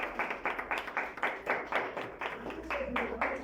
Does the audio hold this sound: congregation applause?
yes